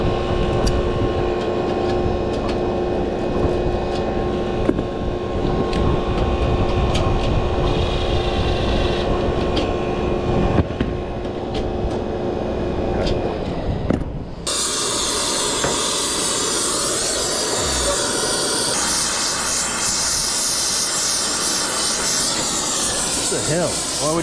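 A replacement compressor in an HVAC or refrigeration system hums and hisses steadily after startup, then a sudden shift near the middle brings a brighter, broader rushing noise, all fairly loud and close.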